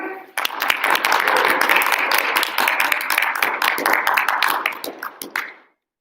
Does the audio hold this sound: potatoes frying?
no